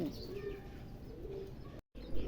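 Red Danish pigeons coo softly and close by in a loft, with low murmuring calls, faint chirps and a brief dropout before the cooing resumes.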